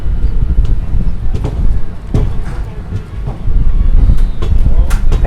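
The Ahmedabad–Jammu Tawi Express, heard from a sleeper-class coach as it heads onto the Jalandhar line, gives a loud, continuous rumble with wheel clatter, sharp rattling clicks and buffeting wind.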